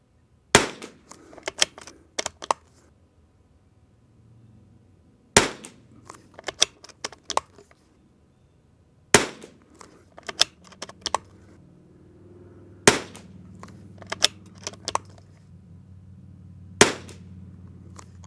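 Five sharp shots from a lightweight Savage MKII Christensen Ranger22 .22 rimfire rifle with a carbon-fiber-wrapped barrel and Timney trigger, fired at a range, spaced a few seconds apart, each followed by faint clicks and rattles of handling between shots.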